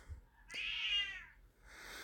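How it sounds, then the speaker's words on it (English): A pet cat meows once, a single drawn-out, fairly faint call with a brief higher trailing sound after it in an otherwise quiet room. "That's my cat. You can probably hear him."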